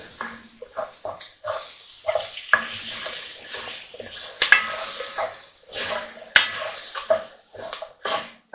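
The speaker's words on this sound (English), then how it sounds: "keep cooking until the onion is soft and beginning to caramelise" Beef and onions, with bacon, sizzle in a pan as they cook down toward caramelised, a steady fry broken by close stirring scrapes and clatter of utensil on pan.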